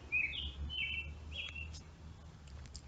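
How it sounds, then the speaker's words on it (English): Outdoor birdsong in a garden setting: several quick, bright chirps in a row early on, then sparser faint tweets, set against a low background hum with no talking. "there's just some beautiful birds chirping in the background."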